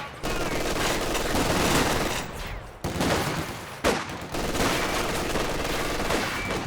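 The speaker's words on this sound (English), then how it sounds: "MG from behind heavy cover, just blasting away" Machine gun fire from behind heavy cover in the strategy game Company of Heroes 2, dense sustained bursts with two brief gaps, loud and close.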